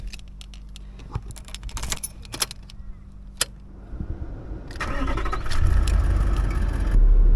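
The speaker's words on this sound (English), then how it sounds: "I'll just crank the car up" A diesel car engine cranks and catches in neutral, the starter churning before a steady, loud idle rumble settles in; keys jangle and clatter in the ignition beforehand.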